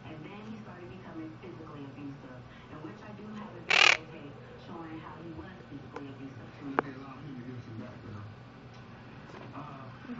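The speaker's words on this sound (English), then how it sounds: "Birds." Crows cawing outdoors, one loud harsh call standing out above a steady background of rustle and ticks, with people talking nearby through most of the scene.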